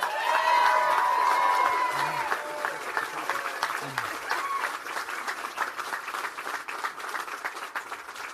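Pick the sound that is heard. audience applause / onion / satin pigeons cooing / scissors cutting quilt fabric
audience applause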